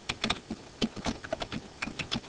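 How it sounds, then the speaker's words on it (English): Someone types on a computer keyboard, entering text in a Word 2010 document. The keystrokes come in quick irregular bursts of soft clicks, close and fairly quiet, with no speech over them. "I'm just going to start typing"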